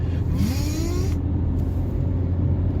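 Inside an Opel Astra Sports Tourer estate car on the highway, a steady low road rumble and engine hum fill the cabin, with a brief rising whine early on.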